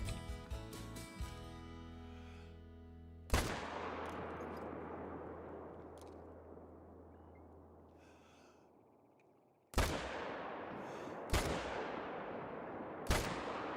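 Rifle shots fired at game animals in the hunting game Call of the Wild, with sharp, loud cracks whose long echoing tails decay slowly, followed later by a quick run of three more shots.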